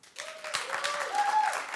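A talk-show studio audience breaks into brief clapping, with a rising, whooping voice or cheer carried over it. The burst is quick and fairly quiet, lasting under two seconds.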